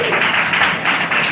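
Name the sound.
audience applause for comedy host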